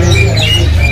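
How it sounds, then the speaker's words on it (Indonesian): A caged cawilis songbird calls at a bird market kiosk with short, thin chirps and squawks over a loud, steady low hum of market background noise. "Dari burung cawilis ini emang dia berbunyi ya"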